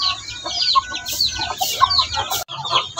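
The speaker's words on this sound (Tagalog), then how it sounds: "tinuturuan na ng inahin na native yung ating mga pasisiw." A native mother hen clucks to her newly hatched chicks, giving close, busy bursts of low clucks mixed with the chicks' high, rapid peeping.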